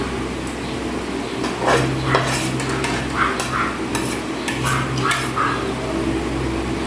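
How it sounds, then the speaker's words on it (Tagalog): Metal cookware clatters and scrapes in repeated bursts, a lid knocking against a pot over a steady background hiss, close by and with no voices. "Maingay yung takip ng kaserola"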